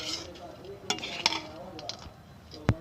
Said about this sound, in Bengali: আমরা এখন ঘিটা দিয়ে দিলাম। ভালো করে নেড়ে নিচ্ছি।